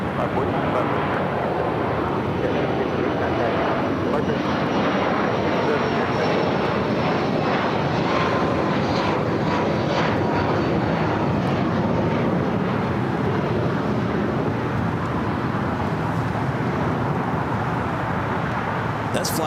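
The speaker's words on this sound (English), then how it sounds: "This flight coming in from Chicago O'Hare, flight 3008. This is the 737 MAX 8." A Boeing 737 MAX 8 jet, arriving at LAX from Chicago O'Hare, roars loudly and steadily for about twenty seconds, a broad rushing engine noise with wind buffeting on the microphone and a voice talking over it.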